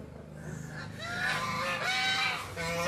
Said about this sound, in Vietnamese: Nhà hai nuôi mấy con ngỗng.